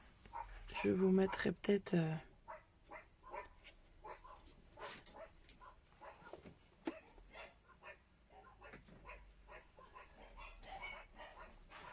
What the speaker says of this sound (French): j'ai mes chiens qui aboient parce que c'est le facteur.